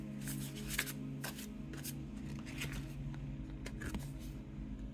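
Oracle cards being shuffled, soft repeated riffling and flicking bursts, close but quiet over a low background rumble, with no talking.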